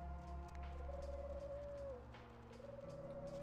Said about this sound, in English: There's a pigeon or something over there.